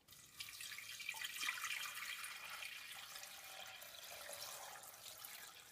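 Tap water runs steadily into a cooking pot holding celery, bay leaves and rosemary for a vegetable broth. The faint, continuous splashing lasts the whole stretch with no talking.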